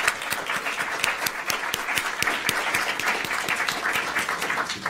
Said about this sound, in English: please give a round of applause to our wonderful panel